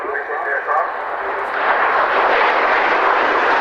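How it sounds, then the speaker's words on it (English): A standby vintage aircraft flies at the Cosford Air Show in 2015. Its loud, droning engine roar swells and grows fuller as it passes. "Actually, this is the second standby aircraft."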